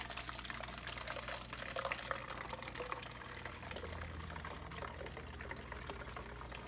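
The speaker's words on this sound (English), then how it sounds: "we're going to fill up our second jug" Kombucha pours steadily into a jug, a continuous watery splashing and gurgling that runs close and fairly even throughout, with no talking.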